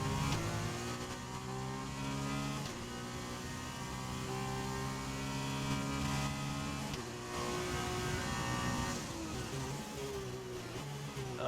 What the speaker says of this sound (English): Haven't raced or even driven an F2 car in this game yet